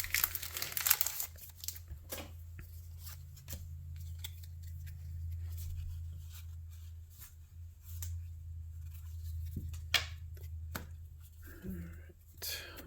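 Pokémon card packs being opened, with foil wrappers crinkling and tearing in close, sharp bursts scattered over a low steady background hum.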